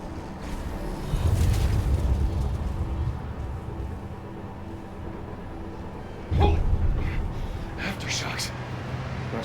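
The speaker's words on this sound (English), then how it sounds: "Aftershocks. Not sure how much longer this place will last." A deep, sustained rumble of an aftershock shaking a solar power plant in the game Pragmata, swelling early on, holding steady, then surging again with a heavier jolt near the end, with a person talking over it.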